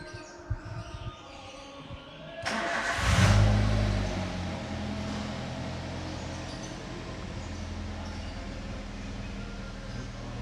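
A car engine starts up with a sharp crank, surges into a revving roar, then settles into a steady low idle rumble that continues to the end, heard close and fairly loud.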